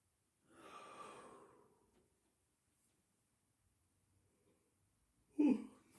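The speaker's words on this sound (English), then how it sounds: "I think I've yawned in every one of these sessions." A single drawn-out yawn breathes out softly and close, followed by a quiet pause and then a short, sharper breath.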